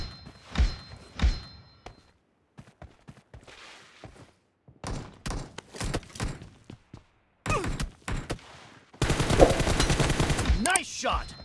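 Rapid bursts of gunfire in the mobile shooter PUBG Mobile during a team deathmatch, with short volleys early on and a dense, sustained automatic barrage near the end, mixed with scattered game effects.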